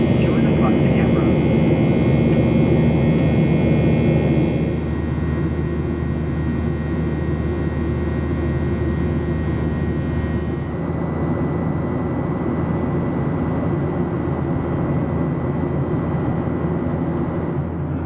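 Steady loud cabin drone of a Virgin Australia Boeing 737-800 in flight from Melbourne to Canberra, a continuous broadband engine and air roar that shifts tone partway through, with a cabin announcement voice running over it.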